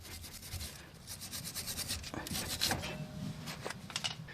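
Scrubbing and rubbing on the threads of a tie rod on a 2010-2016 Buick LaCrosse or Chevy Impala, a steady scratchy brushing with irregular strokes, fairly close and moderately loud, with no talking.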